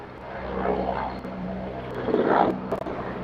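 An aircraft approaching to land drones loudly overhead, its engine roar swelling and wavering steadily throughout, with no voices.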